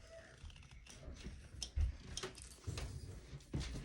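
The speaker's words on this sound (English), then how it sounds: "tighten it back down, cut another groove. We'll cut one right here." A groover cutting a stitching channel in leather for a knife sheath, faint scratchy scraping strokes repeating at close range in a quiet room.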